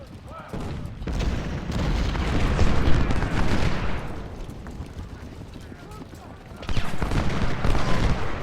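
Ohio infantry volleys in Ultimate General: Civil War, a Bull Run battle, crackle as dense musket fire swelling to a loud peak, easing off, then surging again near the end, with booming undertones and a voice talking at times.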